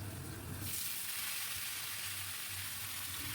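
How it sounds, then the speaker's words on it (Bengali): Potatoes browned in oil with freshly cut ridge gourd added, frying in a pan: a steady, close sizzle that brightens into a broad hiss after the first half second and holds evenly throughout, with no voices. "আলুগুলোকে একটু লাল লাল করে ভেজে নিয়ে এর মধ্যে দিয়ে দিলাম কেটে রাখা ঝিঙে।"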